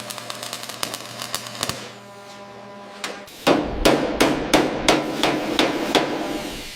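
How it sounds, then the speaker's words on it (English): Hand hammer reshaping bare body metal on a rusted Porsche under restoration, sharp metallic strikes in a steady rhythm, first lighter and ringing, then heavier and denser blows after a brief pause, close and loud. "Listen to the rhythm of the hammer."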